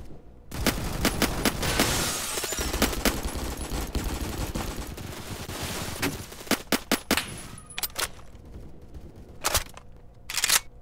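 Rapid bursts of gunfire in the Roblox first-person shooter Phantom Forces, dense automatic volleys in the first seconds, then sharp separate shots and short clusters toward the end, loud and with no talking over them.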